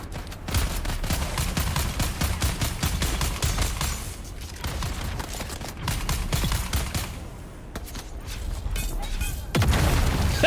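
Sustained automatic gunfire in the video game Dune: Awakening comes as rapid, evenly spaced shots in long bursts, with a few brief pauses and heavy booming impacts.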